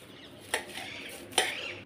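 A knife slicing fresh drumstick (moringa) leaves for a Maharashtrian bhaji, two brief crisp cuts against a board, close and fairly quiet with no talking.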